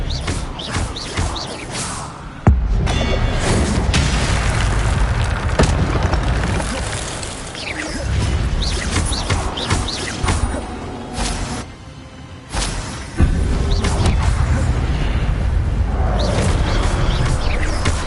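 Incendio and Expelliarmus spell blasts go off in Hogwarts Legacy during a run to Richard Jackdaw's tomb: a long, dense stretch of booming impacts and crackling bursts, loud throughout, with two brief drop-outs.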